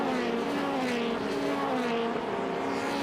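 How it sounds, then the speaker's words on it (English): Toyota Racing Series single-seater race car accelerating up through the gears on a circuit in 2013, its engine note a loud sustained whine that rises and steps across each shift. "Lucas will try and turn it tight, get all the drive he can out of Higgins. Up through the gearbox again towards Pepsi"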